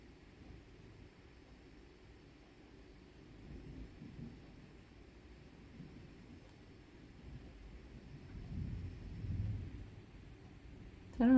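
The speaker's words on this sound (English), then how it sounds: "we are having massive thunderstorms and rain here" Massive thunderstorm with rain outside, heard from indoors as a faint, low rumbling wash that swells toward the end, distant and muffled with no talking over it.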